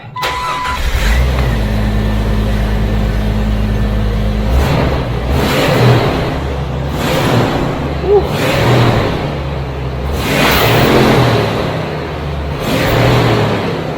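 A Jeep TJ engine turns over and catches, then idles and revs in a steady mid-pitched hum, swelling and easing several times.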